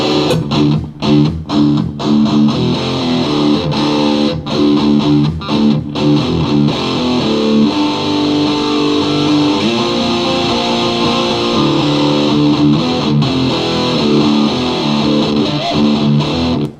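Loud, continuous distorted electric guitar recorded through a multi-effects unit, thick and saturated, playing without pause and with no voices.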